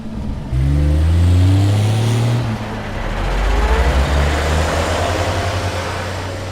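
A car and a big moving truck pull away and drive off down a mountain road, engines rumbling low and loud, with a rising rev as they accelerate steadily away.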